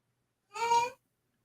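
A single short, nasal meow, plainly a human voice imitating a cat, clear and close against silence.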